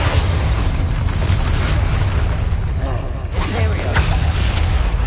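Bombarda and Confringo spell explosions in the Hogwarts Legacy video game form a dense, continuous wash of booming blasts and crackling bursts, loud and layered with combat effects and no pauses.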